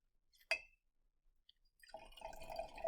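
Sodium hydrogen sulfite solution poured into a glass beaker of acidified purple solution: a sharp glassy clink, then a quiet pause before a soft, steady trickle of liquid pouring close by, with no talking.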